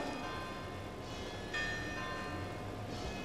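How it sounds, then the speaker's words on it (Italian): Faint bells of the church of Sant'Ignazio ringing in the distance, a few tolls with lingering resonance over a low background hum. "ora state sentendo le campane della chiesa di Sant'Ignazio"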